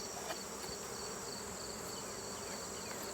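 Honey bees swarm a hive's second super, their dense, steady buzzing holding low and even throughout, with no voices over it.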